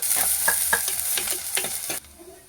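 Finely chopped onion fries with ginger and garlic in a pan for a Kerala-style mackerel curry, a steady hissing sizzle broken by repeated scraping stirs, then the sizzle drops away abruptly.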